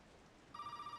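A telephone in the Resident Evil 7 guest house begins ringing halfway through, a thin electronic ring rising out of quiet room tone.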